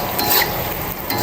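Continuous loud sizzling and hissing of onion, chili and anchovies stir-frying in a hot pan, with faint stirring scrapes, no voices.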